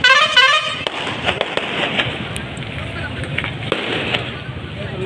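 Distant fireworks at a Kali Puja fair in Gohpur crackle and pop repeatedly over a dense, noisy street background with horns and murmur, the bursts scattered and fairly loud.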